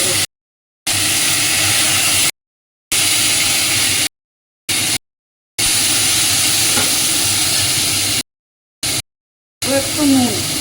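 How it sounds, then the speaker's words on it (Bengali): Two tomatoes go into a hot pan with ginger and sizzle with a loud, continuous frying hiss and crackle, close by. The sound cuts out in several brief silent gaps. "এর মধ্যে আমি দুটো টমেটো দিলাম"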